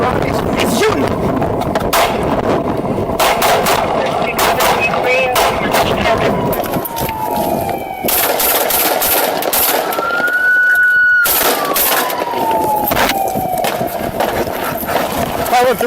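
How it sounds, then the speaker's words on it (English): Gunshots fired in a Walmart parking lot during a police confrontation: loud, continuous chaotic scene with repeated sharp bangs amid shouting voices and passing engine noise throughout. "He's shooting!"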